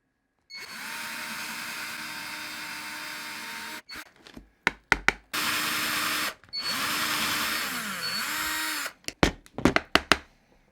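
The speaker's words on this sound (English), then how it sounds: "now you want to drill 4 holes in your quick release plate" A power drill whines in several long bursts boring four holes in a plastic GoPro quick-release plate, pitch dipping as it bores through, followed by short sharp clicks and rattles between runs.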